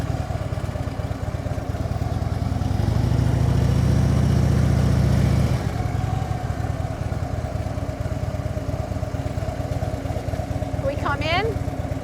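A motorcycle pulls away from a standstill into a tight 24-foot U-turn, its engine rising briefly to a louder mid-pitched drone, then settling to a steady run under continuous wind and background noise, with someone talking.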